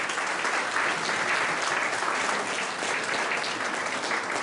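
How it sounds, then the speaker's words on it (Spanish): A seminar audience gives a speaker a sustained round of applause, dense and even clapping filling the room from start to finish. "Pido un fuerte aplauso para la ingeniera Grace Llerena."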